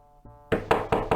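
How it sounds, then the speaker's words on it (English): Three firm knocks on a closed tavern door in the game Touché: The Adventures of the Fifth Musketeer, evenly spaced and close, following a soft low tone. "I never knew anyone knock on a tavern door before I met you"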